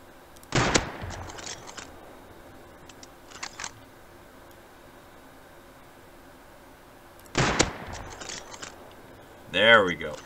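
Scoped rifle fire in the survival game Rust aimed at a bear: two loud, sharp shots several seconds apart with a softer crack between them over quiet ambience, then a brief voice at the end.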